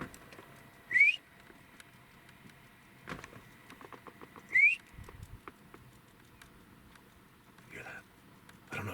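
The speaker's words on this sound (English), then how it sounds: "Oh, it's a real whistle." Real whistles heard outdoors in the woods, two short rising whistles a few seconds apart, faint and distant, with light rustling and soft tapping around them.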